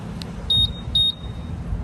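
Two short, high-pitched electronic beeps from a 2020 Honda PCX scooter's remote alarm, each a brief double chirp about half a second apart, sounding over a low background rumble.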